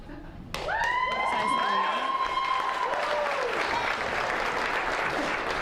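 A sudden burst of applause from a crowd at a wedding, sustained and dense, with a few higher tones ringing over the clapping.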